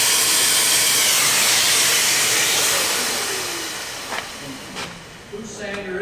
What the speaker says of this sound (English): Whose sander is it? That's a Merca sander.